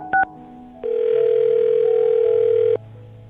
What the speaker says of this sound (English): we'll dial her phone number right now, see if she answers